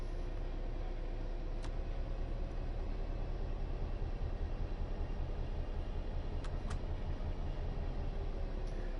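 Steady, loud rumble of a British electric commuter train running in Train Sim World 3 on the Manchester Piccadilly to Glossop line, continuous throughout with a few faint high clicks.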